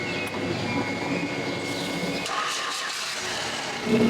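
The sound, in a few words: Yale forklift engine starting with odd noise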